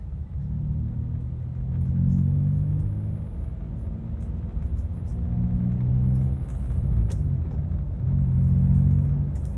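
A car drives along a road into the town of Muara Bulian as traffic thickens, a steady low engine and tyre rumble heard from inside the vehicle, swelling and easing gently throughout with no talk.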